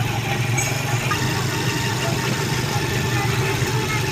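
Several car engines idle together in slow afternoon traffic on a provincial road, a steady low rumble with continuous broadband road noise and no clear voices.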